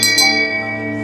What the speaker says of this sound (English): Now hit that notification bell